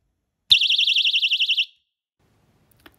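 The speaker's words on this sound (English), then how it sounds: "it will sound the alarm" A personal keychain alarm shrieks once its strap is pulled, a loud, piercing warbling siren that lasts about a second before cutting off abruptly, followed by near silence.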